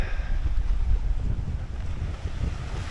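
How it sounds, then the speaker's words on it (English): Strong wind buffeting the microphone on a coastal cliff path in Brittany, a loud continuous low roar with gusty fluctuations and no voices. "Here comes the wind."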